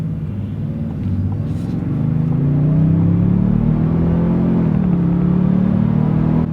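A Toyota Sequoia TRD Pro SUV accelerates hard as it turns out of a neighborhood. The engine is close and loud, and its rising drone climbs steadily in pitch, then levels off with a continuous rumble.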